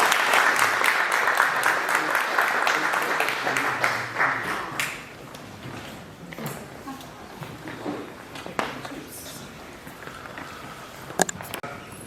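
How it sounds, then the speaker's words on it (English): A conference audience gives a warm round of applause for a panel at a Marathi global event, loud dense clapping for about four seconds that thins into scattered claps and fades under room noise. "Let's give our panel a warm round of applause"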